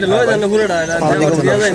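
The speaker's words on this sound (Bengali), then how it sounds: "মাশাল্লাহ খুব সুন্দর একটা কবুতর" Pigeons coo in low, rolling calls close by at a pigeon market, mixed with people talking over them.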